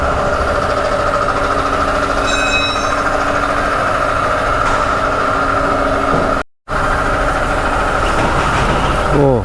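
A bike foam-wash machine at a motorcycle wash service, its motor running in a loud, steady, close droning hum with a brief dropout near the end.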